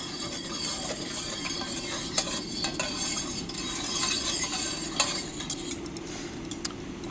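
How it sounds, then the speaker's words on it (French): Veal stock stirred into a peppercorn pan sauce for beef steak with tongs, simmering in a pan: a steady soft bubbling sizzle with occasional faint clinks of metal against the pan, no voices. "J'incorpore mon fond de veau, donc avec ma pince, et là je peux baisser ma flamme à nouveau"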